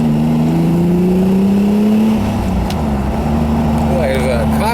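A custom convertible Ferrari Testarossa GT cruising on a test drive, its engine droning loud and steady with a shifting pitch and road and wind rush, voices speaking over it.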